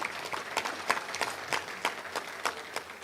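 Scattered audience clapping at a Little Rock Touchdown Club luncheon meeting, a thin, uneven patter of individual claps from a modest crowd, moderately close and without voices on top.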